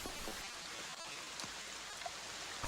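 Continuous rain pours with a dense, even hiss, a few soft drops and splashes audible within the wash, used as ambience for a tabletop Curse of Strahd game in rainy Barovie.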